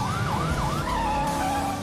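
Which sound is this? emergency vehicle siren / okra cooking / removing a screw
emergency vehicle siren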